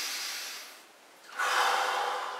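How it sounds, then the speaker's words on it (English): A person breathes deeply during a massage ball exercise on the subscapularis, one slow breath followed by a louder, airy exhale heard up close with no talk. "with a nice breathing in, breathing out,"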